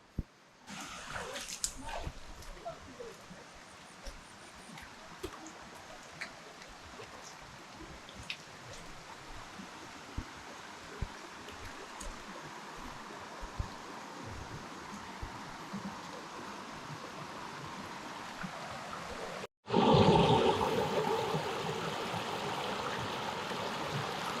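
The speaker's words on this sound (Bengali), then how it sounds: "এই আমাদের কাঙ্ক্ষিত ঝর্ণা" Water rushes steadily at a waterfall and flowing stream on a Sitakunda trail, a soft constant wash that swells suddenly louder in the last few seconds.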